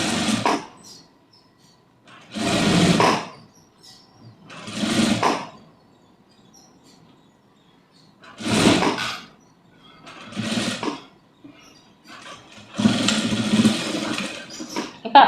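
Sewing machine stitching a blouse lining with lace in short separate bursts, each a few seconds of close mechanical whirring, separated by quiet pauses.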